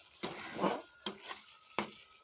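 Eggplant fries in fish oil, giving three hissing sizzle bursts as pieces are stirred or dropped in, each flaring and fading quickly, fairly close and quiet.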